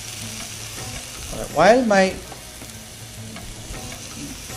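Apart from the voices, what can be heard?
beef fillet medallions frying in a pan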